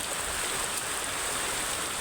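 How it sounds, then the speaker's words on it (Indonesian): Rain falls steadily on a chili field and California papaya plants, a dense, even hiss that stays constant and close with no other sounds over it. "Alhamdulillah hujan sudah menyirami tanaman paya California, sudah menyirami lahan cabai yang siap untuk ditanam."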